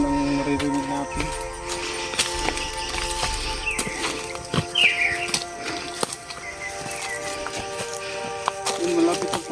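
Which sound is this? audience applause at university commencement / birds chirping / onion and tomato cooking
birds chirping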